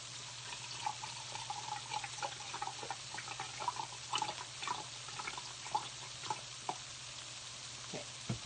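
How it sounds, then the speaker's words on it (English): Vegetable broth is whisked in a pan with a silicone whisk, giving a steady wet sizzling swish with soft scraping strokes, close and fairly quiet. "3/4 cup of vegetable broth. And I'm going to put that in here, and then I'm going to whisk it."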